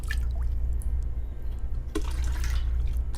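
A bathroom tap running in The Long Dark, a soft steady trickle of water with a few drips and splashes, fairly quiet and heard alone.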